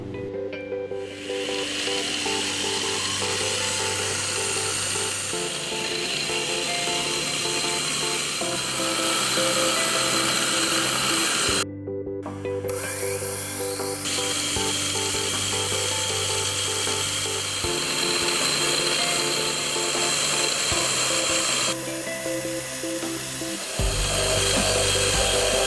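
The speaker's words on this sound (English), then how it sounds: "the 3 pillar holes can be drilled out in preparation for accepting screws" Pillar holes in clock plates are drilled out with a power tool that gives a steady, close machine whine. Its pitch steps up and down between passes, with brief pauses along the way.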